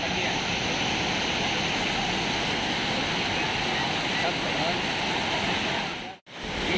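Steady, loud roar of water pouring over Seemavaram dam near Minjur after rain, a dense continuous rush filling the whole scene before a brief cut near the end.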